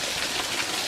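A forest waterfall at a Tennessee nature preserve rushes in a dense, steady broadband hiss, close and continuous for a brief moment with no voices.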